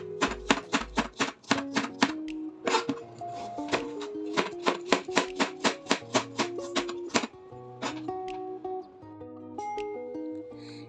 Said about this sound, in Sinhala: පොඩියට මෙන්න මේ විදිහට මුචුට්ටක් පොඩියට කපා ගත්තා